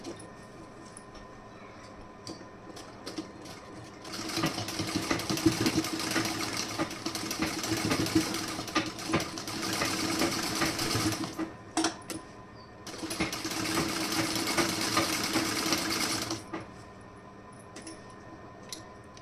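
A sewing machine stitches a double seam on the fitting side of a garment, running in two long steady buzzing stretches separated by a pause, moderately near, with quiet background and no speech.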